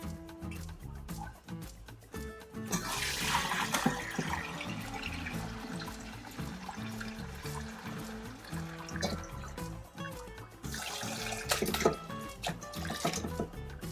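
Golden chicken soup broth pours through a colander, a steady close splashing and trickling of liquid with drips, swelling louder in two bursts.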